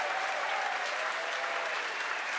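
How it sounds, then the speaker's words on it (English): A crowd cheers and applauds during the SpaceX Arabsat-6A rocket launch, a steady, dense wash of noise with no pauses, heard at a moderate distance. "Again, over the cheering"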